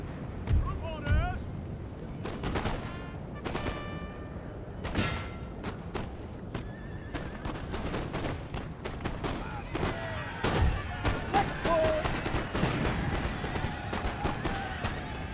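Cannon booms and crackling musket volleys ring out in a Napoleon: Total War battle as a British army fights, heavy blasts and scattered rifle fire erupting repeatedly over a busy din of shouts and someone talking.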